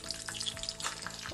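Half a spoon of fenugreek seeds crackles and sizzles in heated oil for a tempering, a brief quiet frying hiss with faint pops.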